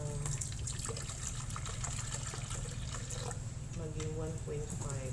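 Water poured into homemade black raisin juice to top it up to 1.5 liters, a steady close splashing stream running the whole time while someone talks.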